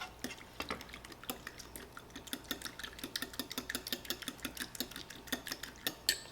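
Salad dressing with Dijon mustard being whisked in a bowl, a quick run of light clinking and scraping taps at an uneven rhythm, soft and close.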